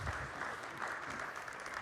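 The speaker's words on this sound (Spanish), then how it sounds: "Dale un fuerte aplauso al Señor." A church congregation applauds steadily throughout a sermon, a dense wash of clapping at moderate volume with no voices on top.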